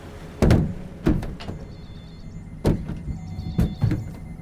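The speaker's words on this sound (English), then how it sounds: "that's the sound of the crew tightening Henrietta's top," Crew members tighten the top hatch of a small submersible from inside the cockpit, producing several heavy metallic thunks and clanks at irregular intervals, close and fairly loud over a quiet hum.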